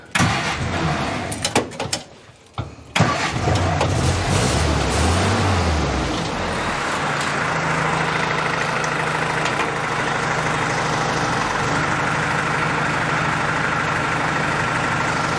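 An old vehicle's engine cranks in a few uneven bursts, then catches and settles into a steady, loud idle that runs on without voices.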